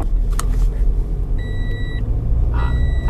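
Toyota Vios seatbelt-unfastened warning chime, two short electronic beeps rising over a continuous low cabin rumble from the moving car, with some clicks and knocks around them.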